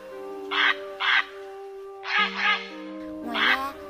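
Grey heron calls come in four harsh, croaking bursts, two quick ones, then a longer doubled call and a final one, over a steady tonal hum.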